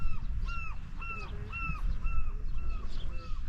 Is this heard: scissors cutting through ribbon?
no